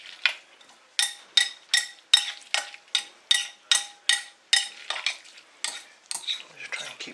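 Onions coated in tandoori paste and chutney are stirred with a utensil, giving about fifteen rhythmic scraping strokes against the pan, close and distinct over a faint sizzle, with no voices.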